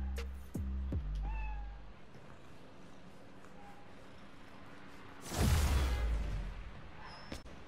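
A cat meows a few times in the Spider-Man: Miles Morales video game, with short distinct meows over a game soundscape and a loud swooshing burst partway through.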